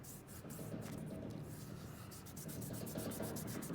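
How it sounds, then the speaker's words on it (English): A picture being rubbed down onto colored plastic by hand, a soft continuous rubbing hiss that turns into quick, rhythmic back-and-forth strokes in the second half, with no talking. "Lay it on, smooth it out, rub it down, rub all the edges"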